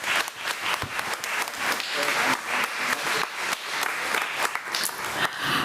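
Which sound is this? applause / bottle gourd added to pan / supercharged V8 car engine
applause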